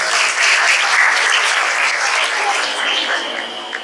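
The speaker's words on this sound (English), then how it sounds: "Please give them a big round of applause, guys." Steady crowd applause at a school Independence Day celebration, dense clapping from many hands that carries on evenly and tapers slightly at the end.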